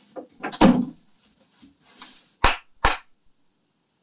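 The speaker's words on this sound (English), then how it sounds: "if I close the door" A door closing in a room fitted with acoustic panels: a few soft handling knocks, then two sharp, close wooden thuds in quick succession that cut off with little ring.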